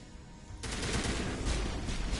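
Video game gunfire erupts abruptly after a quiet moment, a dense rapid-fire burst of shots that rattles on continuously and fairly loud, with no talking.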